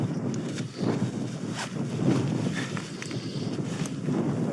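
Strong, cold wind buffets the microphone on a mountainside during solo camping, a rough continuous rumble and roar that swells and eases in gusts, with no one speaking.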